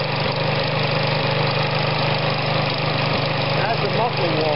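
A Briggs & Stratton OHV small engine, freshly repaired after a no-compression fault and with the choke just adjusted, runs steadily at a close, loud idle with an even mechanical chug throughout.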